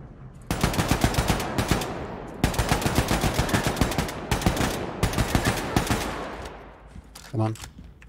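Rifle and machine-gun fire in a video game comes in long, loud rattling bursts of rapid shots with short pauses between them, ending in one low tone.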